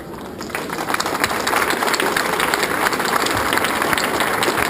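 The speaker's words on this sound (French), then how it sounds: "vous pouvez applaudir beaucoup plus chaleureusement" An audience applauds after a farewell speech, dense steady clapping that builds quickly and stays loud and even throughout.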